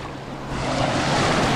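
Waves wash in on the Lake Superior shore at Pictured Rocks in Michigan's Upper Peninsula, a steady, loud rush of surf that swells toward the end, with wind noise and no talking.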